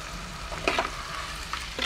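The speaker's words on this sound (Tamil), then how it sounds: "வெங்காயம் நல்லா வதங்க வேணாம், இந்த மீடியமாக இந்த மாரி வதங்கியிருந்தாலே போதும்." Onions sautéing in a clay pot for soup, giving a steady close sizzle with a couple of brief stirring scrapes and no voices.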